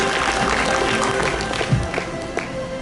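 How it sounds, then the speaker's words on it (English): An audience at a Model UN opening ceremony applauds the executive board members, giving a dense, steady wash of clapping that fills the room from start to finish, with a few louder claps and faint crowd murmur underneath. "Have a huge round of applause for the executive board members"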